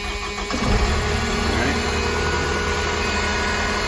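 A KTR 450 engine cranks briefly, catches and starts, then settles into a loud, steady idle close by.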